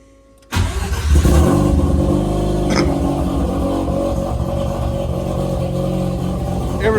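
A wide-body Mazda FD RX7 with an upgraded turbo cranks and fires at once, then holds a loud, steady, raspy rotary idle with a few light blips of revving, close by and uninterrupted.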